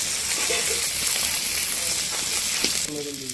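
Onion and chili frying in hot oil in a pan with fish, a steady bright sizzle and crackle throughout, with a spoon stirring and a voice talking near the end.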